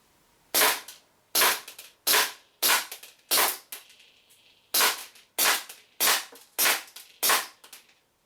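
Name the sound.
WE P08 Luger pistol shots in accuracy test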